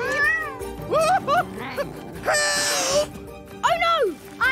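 Cartoon cat meowing and yowling several times close up, with rising and falling cries in short bursts, mixed with cartoon voices and a brief scuffle noise.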